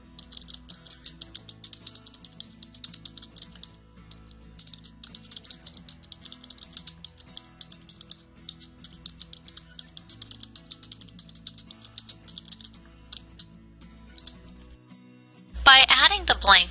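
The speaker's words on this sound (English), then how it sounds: "I can type a note similar to this" Close, rapid keystrokes on a computer keyboard come in quick bursts with short pauses as a note is typed. A louder clatter follows at the very end.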